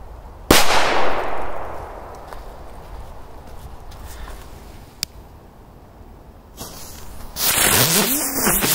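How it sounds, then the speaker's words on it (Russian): A powerful firecracker goes off outdoors with one sharp, loud blast that rings out and decays over a couple of seconds, followed by quieter rustling, a faint click and later a rising wash of noise. "Блин, мне приходится уши закрывать, потому что так взрывается."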